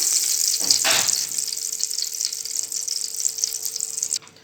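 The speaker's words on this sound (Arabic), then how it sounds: "طبعا كده الزبدة والزيت بتاعنا سخن كويس" Butter and oil heat in a pan with a loud, steady close sizzle and crackle that carries on for several seconds before cutting out abruptly, with no voices.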